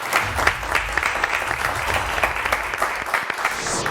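A Turkish television word-game studio audience claps briskly, a lively burst of close, sharp applause that continues steadily for a few seconds.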